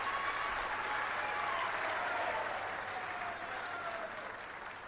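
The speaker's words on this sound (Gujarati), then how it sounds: "આવા કાર્યકર્તા માટે તાળી પાડી દઈએ" Sustained crowd applause at a Bharatiya Janata Party workers' meeting in Manjalpur, Vadodara, a broad, even clapping from many hands that tapers slightly toward the end, with faint voices underneath.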